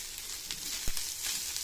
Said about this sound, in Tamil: இப்போ வந்து சாதம் நம்ம ஆட் பண்ணிக்கலாம்